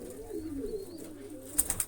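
Pigeons coo softly at a loft where a large cock pigeon sits paired with a white hen, low murmuring calls running steadily with a few sharper chirps near the end, no voices.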